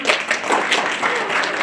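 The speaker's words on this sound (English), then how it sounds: "Can we get a round of applause for them?" A small audience at a school-style presentation gives a brief, loud burst of clapping, close and uneven, with some crowd noise mixed in.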